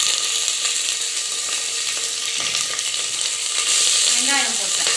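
Onions frying in hot oil in a pan with curry leaves and fenugreek for a Tamil fish curry, a steady close sizzle and crackle with a brief scrape around the middle.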